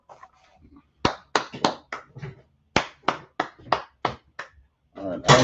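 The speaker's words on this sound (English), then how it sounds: "clap it up" A few people clap in short sharp bursts, close and dry, with brief pauses between the groups of claps and a voice at the end.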